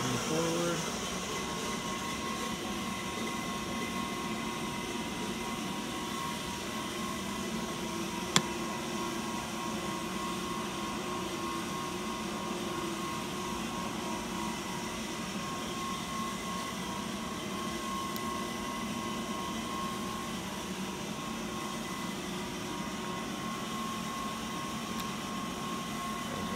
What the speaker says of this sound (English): Spindle moving forward.